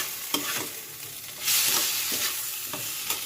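Papaya fries in a pan with turmeric as a spoon stirs it, giving a soft sizzle with several scraping strokes at irregular intervals, close and fairly quiet, with no talking.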